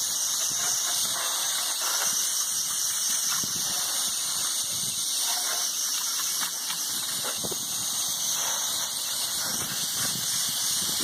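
Steady hissing water spray rinsing grime, leaves and debris off a 24hp MTD Yard Machines 50-inch garden tractor, continuous and close with no talk.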